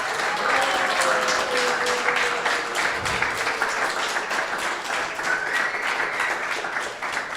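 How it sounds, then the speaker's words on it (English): Audience clapping steadily at a Sunday feast lecture, a dense sustained round of applause from a crowd that holds for several seconds without letting up. "Please give a big round of applause."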